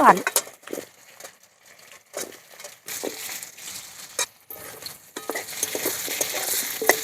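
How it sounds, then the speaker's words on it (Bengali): Potatoes and onions fry in oil with panch phoron and green chilli, a soft sizzle broken by spatula scrapes and clatter against the pan, growing louder and steadier toward the end. "আলুগুলো পেঁয়াজের সঙ্গে ভালো করে লাল লাল করে ভেজে নেব"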